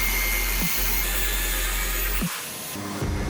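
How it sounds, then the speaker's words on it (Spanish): An angle grinder runs in a steady, loud, continuous whine while cutting the iron claw-shaped pole pieces from an alternator rotor mounted on a lathe, with brief dips in pitch as the blade bites and one shift in tone near the end. "con una amoladora angular cortaremos todas esas piezas de hierro en forma de colmillos"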